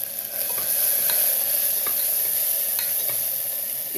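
Ginger and green chili paste sizzles steadily in a hot oiled pan after urad dal, a continuous bright frying hiss with a few soft stirring scrapes and small pops, close and fairly loud with no talk.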